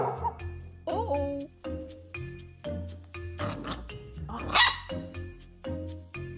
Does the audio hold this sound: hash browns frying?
no